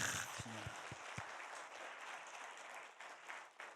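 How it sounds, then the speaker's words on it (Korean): Church congregation clapping for the worship team, a soft, distant patter of many hands sustained throughout, with a few low thumps and a brief tonal sound near the start. "우리 찬양으로 섬기는 분들에게 박수를 한번 축복합니다."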